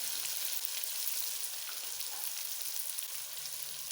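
Tomatoes hit a hot pan while making chicken kadhi, giving a steady, soft frying sizzle with fine crackle and no voices.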